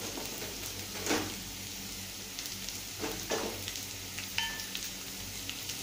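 Ginger garlic paste and green chilli frying in a pan for a brinjal potato gravy, a steady low sizzle with a few brief louder spatters and a faint clink, no talking.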